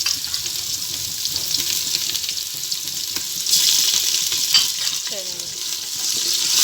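Ginger garlic paste with green chillies sizzles and fries with onions in a pan for a chana daal, a steady loud hiss with occasional stirring scrapes and clinks close by, and no talking.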